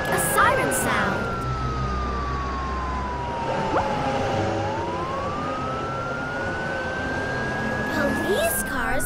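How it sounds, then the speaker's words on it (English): A toy police car siren wails in a smooth rising and falling electronic sweep, steady and fairly loud against a busy background for the whole stretch. "Police cars can make a siren sound."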